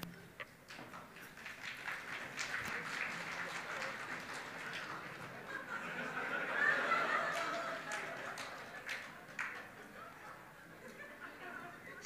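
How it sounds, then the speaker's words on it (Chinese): Scattered, sparse applause and a few chuckles from a live crosstalk comedy audience, rising briefly in the middle, with broad room noise and some murmuring throughout. "谢谢大家稀稀拉拉的掌声"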